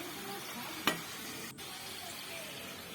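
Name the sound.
sweet potato pitha frying in pan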